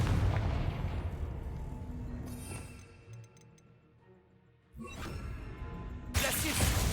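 A Confringo fire-blast spell goes off in Hogwarts Legacy with loud booming explosions and crackling bursts, fading into quieter game ambience before another blast erupts at the end.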